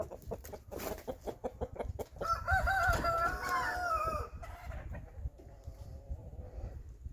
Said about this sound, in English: So I got a crazy rooster up on the daggone house.